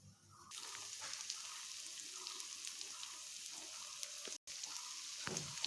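Marinated chicken with spices for biryani frying in a pan, a soft continuous sizzle throughout with faint stirring, heard alone at low level.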